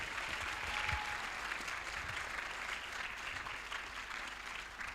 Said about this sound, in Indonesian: Mari kita sambut dengan tepuk tangan yang meriah Dea Yujihan.